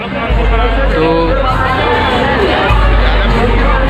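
A dense crowd packs a Durga Puja pandal in Sector 1 Targhar during the 2022 festival, a loud continuous babble of many voices close around, with someone talking over it.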